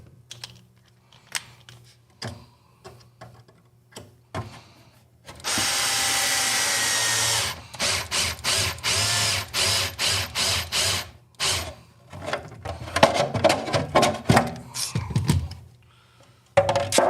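A power drill with an Allen key bit drives bolts in: a sustained whirring burst, then a rapid series of short stuttering drill pulses, with lighter clicks and handling knocks before and after.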